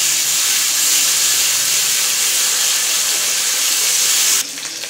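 Onions and ginger-garlic paste frying in hot oil for a fish and bottle gourd curry, a steady loud hiss and sizzle running throughout, dropping slightly in level just before the end.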